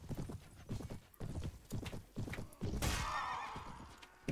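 Horses in Prophesy of Pendor gallop with steady clip-clop hoofbeats, and a neigh bursts out midway before the hooves carry on, moderately close and with no voices.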